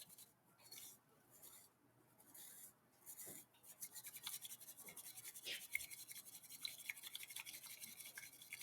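Quiet, rapid brushing swish of a bamboo whisk whipping matcha tea in a bowl, faint at first and building into a steady, scratchy whisking rhythm.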